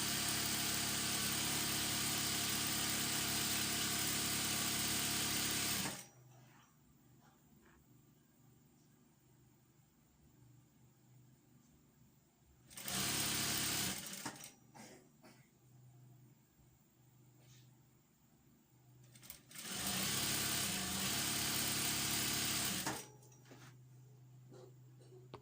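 A sewing machine hums in long, steady runs while sewing a fluffy tutu skirt, stopping for quiet pauses and starting again, alone without talk.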